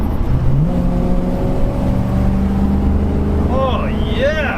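A 1966 Ford Thunderbird with a 390 V8 pulls hard at full throttle, a loud, close engine drone rising steadily in pitch as it accelerates, with faint chirping sounds near the end.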